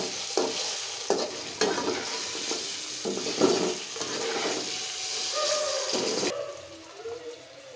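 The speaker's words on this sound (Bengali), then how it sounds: "লাল লাল করে ডিম ভাজা" Eggs fry in oil until reddish, a constant sizzle cut by several distinct scraping stirs in an uneven rhythm, the frying quieting slightly toward the end.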